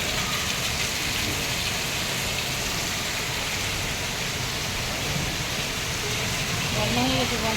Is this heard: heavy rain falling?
yes